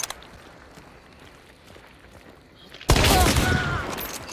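A frag grenade blowing up amid gunfire in a video game, faint scattered shots and then a sudden loud burst that carries on as a sustained roar.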